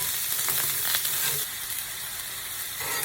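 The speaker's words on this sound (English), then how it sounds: "Got the green peppers going now." Onions and green peppers frying in a pan for a British-style Philly steak, a steady close sizzle with occasional stirring scrapes, loud and continuous throughout.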